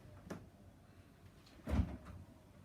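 A drawer in a Hisense RQ689N4AC1 American fridge freezer slides and bumps shut, two soft knocks with the second louder and heavier, close and alone in a quiet room.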